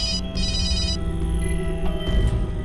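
A telephone rings with a tonal, repeating electronic pattern, fairly loud and near, with no talk over it.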